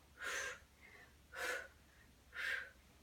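Three evenly spaced breaths, exhale and inhale, during an ab workout, each a soft airy rush about a second apart, close and fairly quiet, with no talking.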